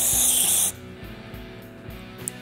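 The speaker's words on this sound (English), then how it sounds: "That'll clean it up too, some of that carb spray." Carburetor cleaner spray blasts in one loud, steady hissing burst into the carburetor of a 1974 Sears rototiller, then cuts off, leaving faint low mechanical knocking and rumbling.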